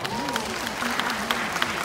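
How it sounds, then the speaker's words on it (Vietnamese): An audience at a concert in San Jose claps in a steady patter, moderately loud, while a voice talks over the applause. "xin cảm ơn những tràng pháo tay của quý vị"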